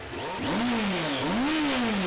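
A motorcycle engine revs close by in two rising and falling swells, its pitch sweeping up and back down with a gritty mechanical edge.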